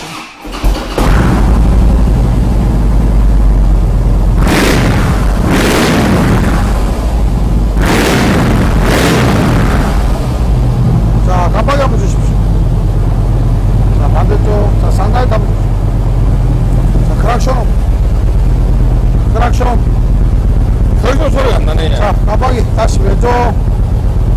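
Harley-Davidson Heritage Softail with a replaced engine and tuning, running loud and close with a deep, steady low rumble throughout, while people talk over it in short bursts.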